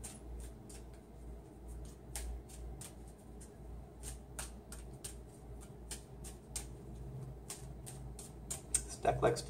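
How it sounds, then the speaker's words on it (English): Tarot cards are shuffled with quick, crisp riffling clicks in irregular bursts, quiet and close, over a soft low hum. "I'm just going to give them a shuffle"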